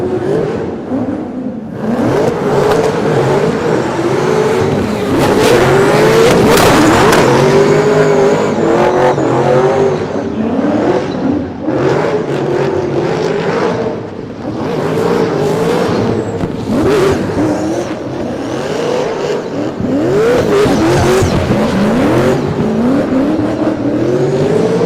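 Supercharged V8 Nissan S15 drift car at a D1NZ drift championship round at Baypark, its engine revving and howling continuously through a run, with loud fluctuating throttle bursts and tire noise, no talking.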